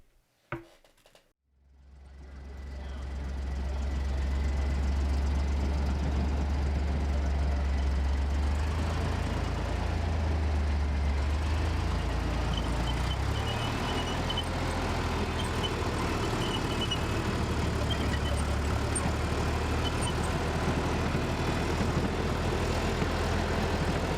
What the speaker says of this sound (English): And here's an M42 Duster driving across the park.